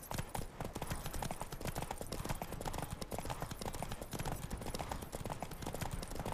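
Horse hooves galloping in The Witcher 3, a dense, steady clip-clop of a racing horse carrying on loudly and continuously throughout.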